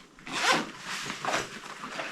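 A mesh zip pouch on a military pack being zipped: two quick, close rasping zipper pulls, the first sharper and louder, in a quiet setting.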